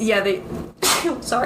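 A single sneeze bursts out sharply in the middle, with close speech from the same person just before and after it.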